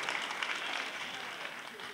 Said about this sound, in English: A big applause for Altai State Technical University getting the first silver medal